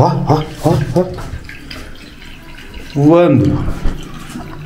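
Water runs from a household tap in a bathroom, a soft continuous splashing hiss heard beneath close voices and a short spoken word.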